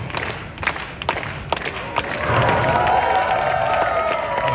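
A street-show crowd in Covent Garden, London, claps and cheers for a unicycle performer, scattered sharp claps giving way to a sustained wash of applause and whooping shouts.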